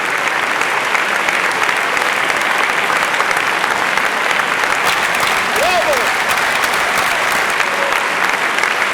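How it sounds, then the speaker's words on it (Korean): A concert audience rises in a standing ovation for pianist Kun-Woo Paik, dense sustained clapping from a large crowd filling the hall at full strength throughout, with a brief voice-like sound audible within the applause. "혼신의 힘을 다한 그에게 기립박수가 쏟아진다."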